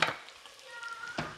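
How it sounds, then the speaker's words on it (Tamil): Shallots, green chillies and curry leaves sauté in a pan for a Tamil chicken gravy, giving a soft, steady sizzle with a couple of sharper stirring scrapes at the start and end. "சின்ன வெங்காயம், பச்சை மிளகாய் போட்டு வதக்குறேன்."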